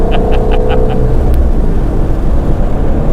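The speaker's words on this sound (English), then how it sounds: "we're on the highway. In a modified Shelby with Olivia behind the wheel" A modified Shelby GT350 cruises along a highway, its engine and road noise a loud continuous rumble filling the cabin, with a few faint beeps early on.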